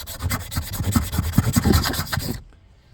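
A metal file rasps along an axe blade in quick, rhythmic back-and-forth strokes, close and steady for a couple of seconds before stopping abruptly.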